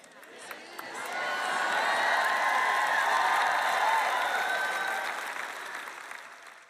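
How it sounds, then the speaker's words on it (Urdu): An audience applauds at a church sermon, the clapping swelling from scattered claps into sustained, full applause before fading out, heard fairly close. "دیکھیں، آپ اس بات پر تالیاں بجا رہے ہیں کہ یسوع واپس آ رہا ہے"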